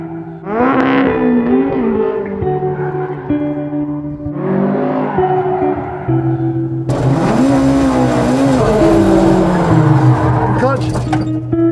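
A car drifts with the handbrake on a gymkhana course, its engine revving and tires squealing loudly in long swelling bursts, with a person talking over it.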